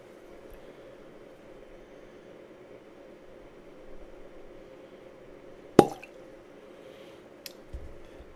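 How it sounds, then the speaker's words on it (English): A single sharp cork pop comes from a bottle of Frey Ranch Barrel Strength whiskey, a quick loud snap in a quiet room with faint hum before and a small knock after. "Very nice cork pop there."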